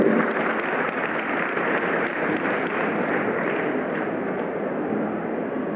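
A seated congregation claps steadily during a Jain religious discourse, a dense, even wash of applause that continues at constant loudness for several seconds.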